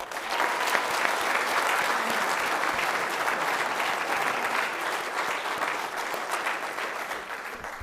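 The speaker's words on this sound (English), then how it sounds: "Please join me in a round of applause." Sustained, dense applause fills a hall at a spring ROTC commissioning ceremony for the Skyhawk Battalion, holding steady and loud throughout with no talk over it.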